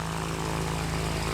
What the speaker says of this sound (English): So let's just run the engine now just to make sure there are no leaks